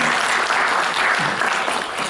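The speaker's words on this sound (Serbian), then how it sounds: "Aplauz za naše učesnike" Audience applause for the participants of a debate forum in Pale, a steady, dense wash of many hands clapping throughout, loud and close with no talk over it.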